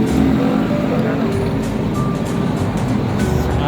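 Dense road traffic on EDSA in Manila, with many vehicle engines forming a loud, continuous rumble and occasional faint beeps, while people talk over it.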